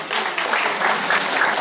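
An audience claps for the music group Peña Blanca de Tupicocha at the Bajada de Reyes festival in Huanza, Peru, giving a short burst of brisk, steady applause.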